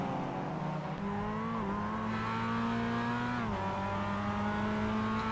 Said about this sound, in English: Hearing clutches in and cars coasting into the final turn.